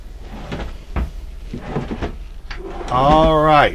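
Deep drawers in the bedroom of a 2020 Newmar New Aire 3545 motorhome open and close, with a short sliding, squeaky rumble near the end after some low voices and knocks.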